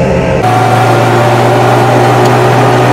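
A Ferret armored military vehicle's engine drones loudly and steadily while driving through suburban Nashville, a low, harsh hum that holds its pitch after a shift at the start.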